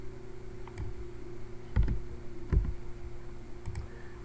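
Numbers being typed on a computer keyboard, a handful of soft, scattered key clicks over a steady low electrical hum.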